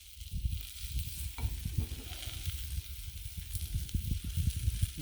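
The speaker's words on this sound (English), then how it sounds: "Don't ever let anyone tell you you can't cook a pork loin on a griddle." Pork loin sizzling on a griddle, a steady, fairly faint frying hiss with crackling pops and occasional scraping or stirring thumps.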